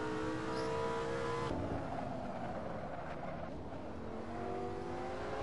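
A Lamborghini engine at full throttle, sustained loud droning tone with rising harmonics that drop as it shifts gear midway, then climbs again under rushing wind noise.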